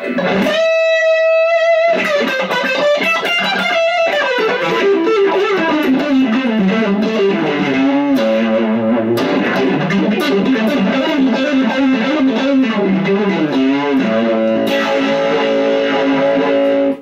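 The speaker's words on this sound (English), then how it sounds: "If you want to kick in distortion with that." An electric guitar plays a sustained, gliding melody through a distortion pedal, heavy distortion, thick and buzzing, loud and continuous with no voices.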